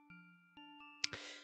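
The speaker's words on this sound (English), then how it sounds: "Simply walk up and ring the doorbell" A doorbell in the Roblox game Hallowsville rings with clear, tonal ding-dong chimes, several separate strikes in quick succession, followed by a brief clattering rustle, quiet overall.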